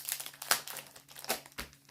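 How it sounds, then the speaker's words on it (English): A plastic package crinkles and rustles up close in a few irregular bursts with sharp crackling peaks, fairly quiet overall. "Sorry for the rustling package."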